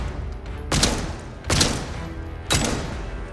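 Three heavy gunshots ring out in Atomfall, evenly spaced about a second apart, each a sharp, loud crack that trails off into a short decay.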